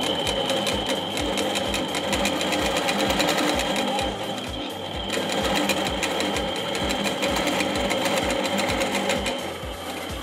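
A quilting machine runs straight stitches across a quilt along a ruler, making a fast, even needle-punching rhythm over a steady motor hum that holds a constant pace throughout.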